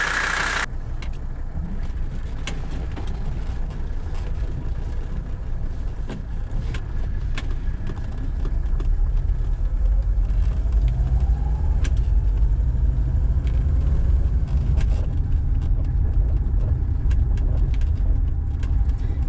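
A Mercedes 300D car engine runs steadily while driving, a continuous low rumble heard from inside the cabin that grows slightly louder about halfway through, with no talk.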